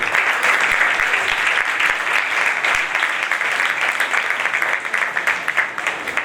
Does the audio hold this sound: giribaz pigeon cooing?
no